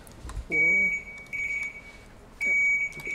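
Short electronic beeps sound in a few separate bursts, steady high tones with brief gaps, and a faint voice murmurs near the start.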